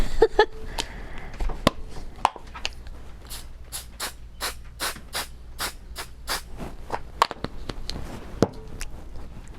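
Several quick bursts of temporary fabric adhesive aerosol spray hiss in a rapid series, surrounded by clicks and handling noises close by.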